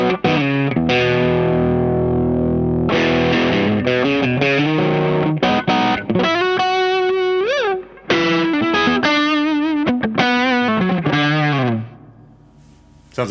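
Electric guitar through a Crazy Tube Circuits Unobtanium overdrive pedal with the emphasis turned all the way up, playing loud, saturated chords and bending lead phrases continuously with brief gaps.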